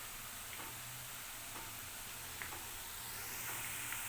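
Bhaliyan half-frying in hot oil make a steady, soft sizzle throughout, with a few faint clicks of stirring and no talk.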